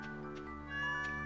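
A cat wearing a silly hat meows in the Stardew Valley farming game, a couple of short mews rising over steady background game music, near and clear.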